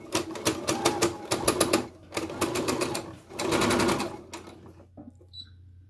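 Sewing machine stitching a tight curved seam at a short stitch length, running in quick rattling bursts with brief pauses between as the fabric is pivoted, close and loud, ending in near silence.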